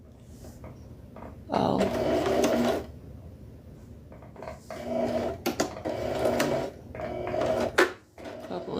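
A sewing machine back tacks through placemat fabric for a key wristlet in several short, fast bursts of needle stitching separated by pauses and small handling clicks.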